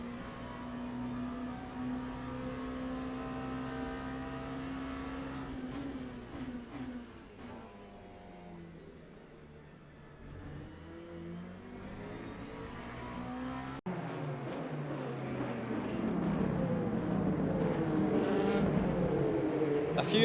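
Race car engines at Monza in Le Mans Ultimate, with a steady high engine tone that drops, dips and then builds again into louder, rougher revving as other cars close in, holding close and continuous throughout.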